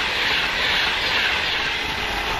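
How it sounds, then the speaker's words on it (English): A British Rail Class 390 electric train, the Liverpool Lime Street service, rushes past at Kings Langley, giving a loud, steady broadband roar that holds throughout with no voices. "That, however, is Liverpool Lime Street train, 1F16, 390155."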